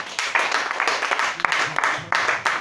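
A church congregation at a worship service clapping and applauding for Jesus Christ, bursts of hand claps rising and falling over a few seconds, fairly close, with voices mixed in.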